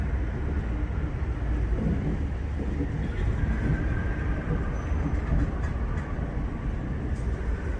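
Freight train of tanker cars rolling past, a continuous loud rumble of wheels on track with faint squeals above, steady throughout.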